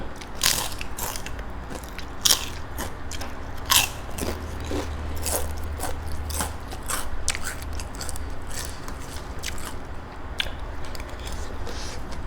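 Loud crisp crunches of someone biting into and chewing crispy fried wontons, repeated sharp bites and crackly chewing close to the mic, with a low rumble underneath.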